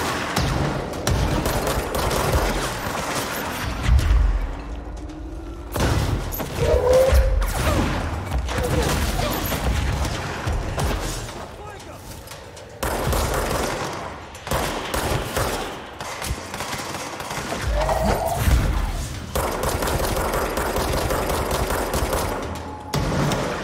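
Bursts of gunfire in the video game Control, AWE expansion, come in loud rapid volleys with booming impacts that break off and resume in waves, dense combat noise throughout.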